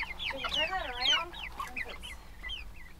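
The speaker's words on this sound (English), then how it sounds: "That's our chicken tractor for our meat chickens." Cornish Cross meat chickens in a chicken tractor give a run of soft clucks and chirping calls, close by but fairly quiet, with short pauses between them and no talking.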